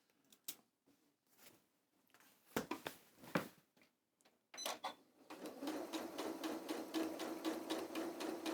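Sewing machine top-stitching thick fabric, starting with a few scattered taps and clunks, then running steadily from about five seconds onward in a close, fairly loud rapid mechanical whirr with a faint repeating knock.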